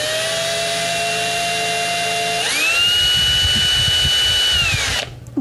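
A power drill bores into a guitar neck during a neck swap, its steady whine stepping up to a higher, harder pitch partway through, loud and close, then cutting off abruptly near the end.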